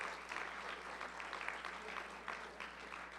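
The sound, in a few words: audience applause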